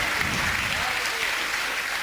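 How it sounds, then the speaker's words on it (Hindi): An audience claps loudly and continuously for a child who has just recited a poem, with the applause a dense wash and voices faintly mixed in. "जोरदार तालियां होनी चाहिए साहब"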